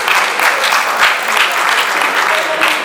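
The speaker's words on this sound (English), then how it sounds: "Again, a round of applause." Loud, dense applause from a school audience at a lecture event, steady clapping from many hands filling the room close by, with a voice faintly audible underneath.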